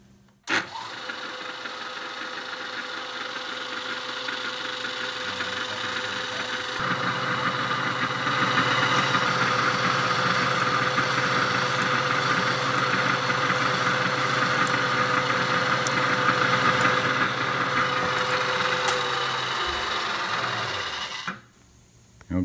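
A carbide bit drilling into a mold, a steady loud motor whine that rises in pitch and intensity partway through, runs continuously, then cuts off abruptly near the end.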